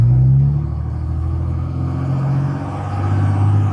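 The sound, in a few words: 2007 Dodge Ram transmission shifting gears while driving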